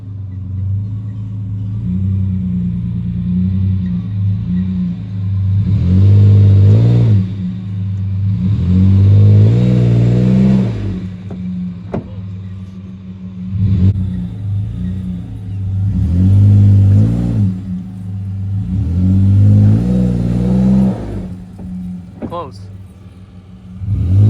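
A pickup truck climbs a dry off-road hill in 2-wheel drive, its engine rumbling low, then revving hard in several long surges, each rising and falling, loud and close, with someone talking over parts of it.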